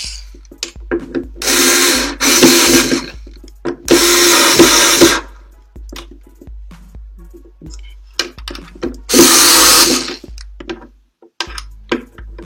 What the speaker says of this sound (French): ensuite nous allons visser le rattache batterie